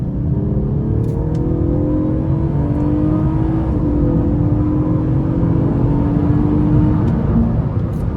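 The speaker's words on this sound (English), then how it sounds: "The exhaust sounds so good." A 2017 Honda Accord Touring V6 engine drones and builds as it accelerates, a deep continuous exhaust rumble rising slowly in pitch over several seconds.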